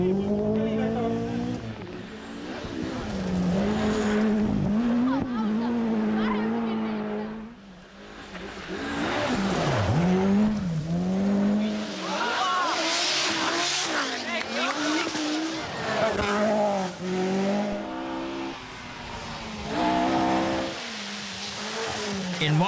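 A Peugeot 205 T16 Group B rally car races past on a rally stage in Finland, its engine revving hard and rising and falling with gear changes, along with tire squeal, under continuous narration.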